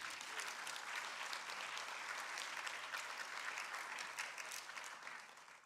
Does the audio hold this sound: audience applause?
yes